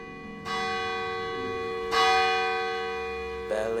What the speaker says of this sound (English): Bell again tolled one.